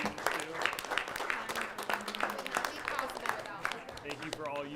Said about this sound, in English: let's give it a round of applause to the parents who put in a lot of time and effort supporting our students too